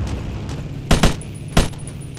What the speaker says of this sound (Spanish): Creo que hay peña disparando por ahí.